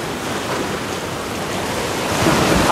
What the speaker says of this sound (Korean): 바다 내음 나고 파도 소리 들리고